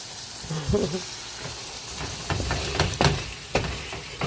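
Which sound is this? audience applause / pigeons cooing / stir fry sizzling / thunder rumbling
stir fry sizzling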